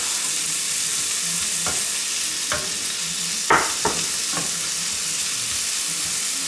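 Cèpe mushrooms fry in a pan for a sauce, giving a steady, close sizzle with a few sharp utensil scrapes and clicks, one louder than the rest, and no talking.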